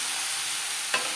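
Boiled potatoes and jackfruit stir-fry with spices in a pan, producing an even, close hiss of frying broken by a single quick scrape of the spoon near the end.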